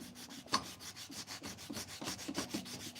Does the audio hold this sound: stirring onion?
no